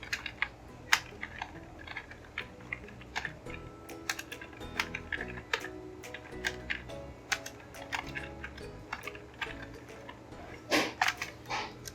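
Steady typing on a computer keyboard while composing text in Microsoft Word, a continuous stream of close, crisp key clicks with irregular rhythm and occasional heavier spacebar or enter taps, no voices.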